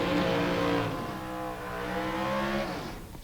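Drag racing cars at the 2019 Southwest Showdown bracket race, engines revving in two rising, throaty surges that peak and then drop away, fairly close and loud with no talk.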